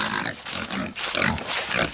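Pigs on a hobby farm grunting and snorting in a steady, busy chorus, close by, with broad noisy bursts and brief dips between them.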